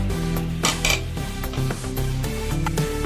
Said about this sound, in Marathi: त्यामध्ये मी करवंद मिक्स करून घेऊया